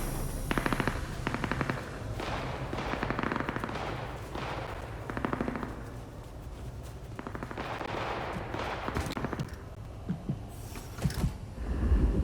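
Gunfire rattles through a Vampire: The Masquerade - Bloodlines 2 firefight in rapid bursts, loud and near, with mechanical clanks and creaks between volleys and no talking.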